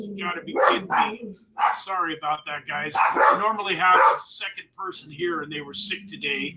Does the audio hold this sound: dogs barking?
yes